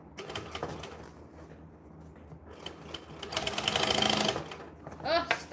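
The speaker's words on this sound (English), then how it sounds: "Tuck it under. Top stitch it down." A sewing machine top stitches a bag in fast rattling runs, the stitching speeding up into a dense burst near the end, with a voice talking faintly in between.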